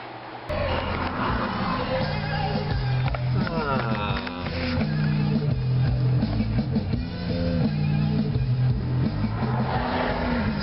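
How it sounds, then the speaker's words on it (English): A car drives along a road with steady engine and tire noise close by, and passing traffic swells and fades throughout. "Stuck in the traffic."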